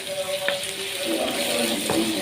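Grated tomatoes frying in a pot for dried molokhia, a steady broadband sizzle with a few brief clinks and stirring sounds, close and moderately loud.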